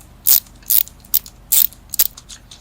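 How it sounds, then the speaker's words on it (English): A ratchet wrench clicks in five short, loud bursts while loosening the pulley bolt on a Racebox VR30 pulley kit, each bright rasp separated by brief pauses, close up with no voices. "A ratcheting wrench works perfectly."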